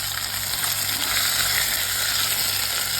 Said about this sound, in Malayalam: ഇതിലേക്ക് ഉപ്പ് ചേർത്ത് വെച്ചിരിക്കുന്ന നാരങ്ങ ചേർത്ത് കൊടുക്കാം.